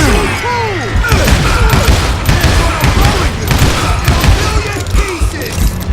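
Gunfire in the Call of Juarez: Gunslinger video game comes as a dense, loud fusillade of rapid shots with heavy booms and crashes, continuous for several seconds.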